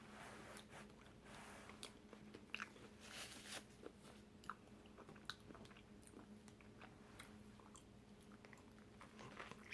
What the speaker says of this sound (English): That lettuce give it that extra crunch.